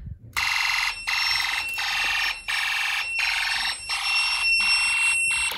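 A Snap Circuits toy fire alarm system, triggered from a pull station, sounds a loud electronic tone in repeated bursts of roughly half a second, about eight pulses separated by short gaps.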